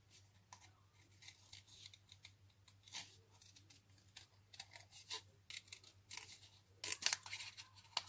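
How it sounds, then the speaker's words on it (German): Scissors snipping out paper pieces for a Stampin' Up! gumball candy box, a run of quiet, irregular cuts and rustles that grow busier and louder toward the end, with no talking. "Jetzt schneiden wir alles noch aus."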